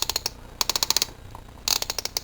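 Cranky plastic clicking from the mouth-opening mechanism of a Primal Rage Super Rage Series Sauron toy as it is turned, heard as three short bursts of rapid ratcheting clicks, close and fairly quiet.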